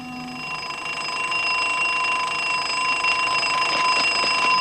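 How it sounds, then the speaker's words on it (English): An alarm bell in a 1960s Italian action film rings continuously and loud. Its steady metallic tone swells slightly over several seconds, with faint commotion underneath. "Sound the alarm."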